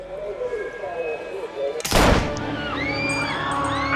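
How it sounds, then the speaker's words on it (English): A single loud gunshot in the video game Mafia bursts out sharply over a background of game music and ambient tones, followed by lingering electronic chirps. "Reports of gunfire at the Turnbull rally."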